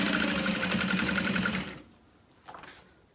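A sewing machine runs steadily, stitching a half-inch seam joining a side panel to a handbag, loud and close for about a second and a half before stopping, followed by a faint soft handling noise.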